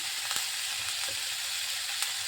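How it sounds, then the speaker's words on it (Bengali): Steady sizzling of boiled pumpkin peels frying in a hot pan, a continuous bright hiss with a few faint scrapes and clicks, no voices. "এবার ভালোভাবে ভাজা ভাজা করে নিচ্ছি"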